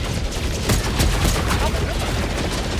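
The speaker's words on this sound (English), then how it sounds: "And I just missed all my shots" Rapid gunfire bursts from the video game Helldivers 2, a dense volley of sharp shots repeating across the whole moment, loud and close, with some background game noise.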